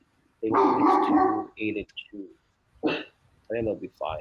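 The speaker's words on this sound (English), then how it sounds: "So that's my dog." A dog barks loudly and close by, a short burst of gruff barks mixed in with someone speaking, followed by a few quieter yips between his words.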